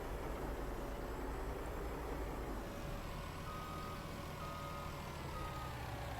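A steady reversing alarm beeps from a truck backing up in Farming Simulator 19, a farming video game, held at an even level over a constant low engine rumble with no talking.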